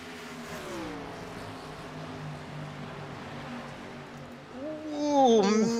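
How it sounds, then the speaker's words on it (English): Simulated race car engines in the iRacing game at Pocono Raceway drone in a steady pack on a restart, then rise sharply as the cars rev up into turn one. "We like to get some engine noise out of these cars when they hit that turn 1 area off the restarts."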